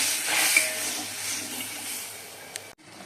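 Spice paste of poppy seed, mustard and coconut frying in hot oil in a wok, giving a steady close sizzle and hiss that runs continuously before cutting off abruptly near the end.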